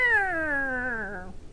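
A voice imitates a gremlin cat, producing a single drawn-out, falling, whiny meow-like cry that fades away.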